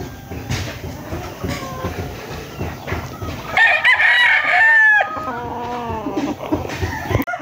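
Gamefowl roosters at a game farm: steady clucking and calling, then one loud, close crow rising in the middle, followed by more clucking.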